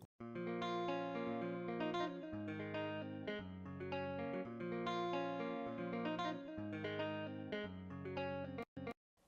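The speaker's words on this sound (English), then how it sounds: "that's the guitar that we used" A guitar plays a repeating, effect-laden riff with a shimmering chorus tone, steady and full, ending with a couple of abrupt cuts.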